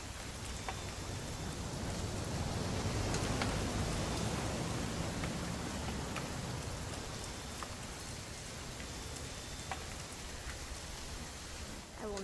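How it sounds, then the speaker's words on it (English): Rain falls steadily in the game What Remains of Edith Finch, a dense, even hiss that carries from start to finish with a few sharper ticks scattered through. "It's gonna rain the whole weekend"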